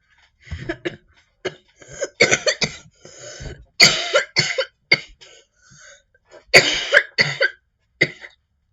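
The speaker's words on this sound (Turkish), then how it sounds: "Bugün biraz öksürüğüm var." A man coughs repeatedly in short rough bursts with some throat clearing, close and loud, several clusters spread over the moment.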